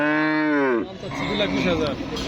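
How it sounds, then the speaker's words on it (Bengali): A crossbred Jersey cow at a cattle market in Jamalpur gives a single long, low moo at close range, then quieter background noise follows. "ক্রস জাতের জার্সি ক্রস জাতের যে গরুটা দেখতে পাচ্ছি"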